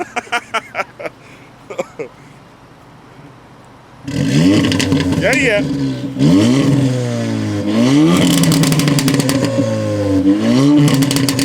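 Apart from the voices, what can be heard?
car engine revving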